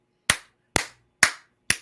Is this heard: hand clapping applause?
yes